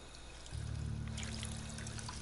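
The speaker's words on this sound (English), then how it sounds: "my sink actually has water" Water running from a kitchen sink in Fallout 4, a soft steady trickling stream that swells into a fuller pour about halfway through, quiet and continuous.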